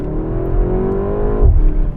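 A BMW M135 with a four-cylinder engine revs up while driving, giving a loud, close, steady engine drone whose pitch climbs and then drops at the end, with no talk over it.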